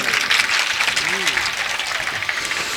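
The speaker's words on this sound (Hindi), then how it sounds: "बात अच्छी लगी तो फिर तालियां क्यों नहीं बजाई?" Audience at a Hindi public speech or samvad event applauding steadily, a broad continuous wash of clapping throughout with a brief voice sliding in underneath.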